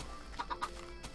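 Three quick, faint clucks from baby chickens in Minecraft Windows 10 Edition Beta sound in a short burst over a soft, steady background.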